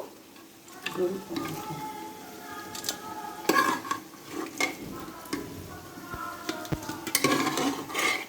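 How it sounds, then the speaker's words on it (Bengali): Potatoes and spices are stirred in a frying pan, with a soft sizzle under repeated scraping and clinking of a utensil against the pan, irregular and fairly quiet. "এদিকে আলু আর মশলাটা কষে কষিয়ে নেওয়া হচ্ছে ভালো করে"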